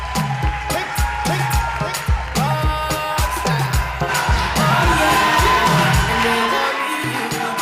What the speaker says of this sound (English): a round of applause for Fernand